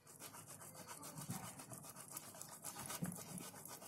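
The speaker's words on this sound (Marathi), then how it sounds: "पहिला मी पनीर किसते आणि तुम्हाला दाखवते" Paneer being grated by hand on a metal grater, a quiet run of rhythmic rasping strokes repeating steadily and close by, with no talking.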